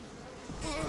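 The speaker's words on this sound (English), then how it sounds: "Not the bees. The bees are on me." A bee swarm in the video game BioShock makes a brief, close buzzing drone that swells louder in the last half second.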